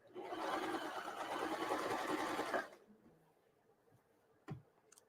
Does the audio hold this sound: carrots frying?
no